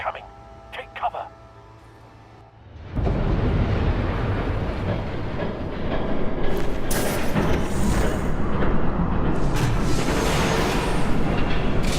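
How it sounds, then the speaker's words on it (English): Train rushing past in the Batman: The Telltale Series video game, a sudden loud sustained roar and rumble that swells after a quieter opening with brief voices, then stays dense and close. "There's a train coming."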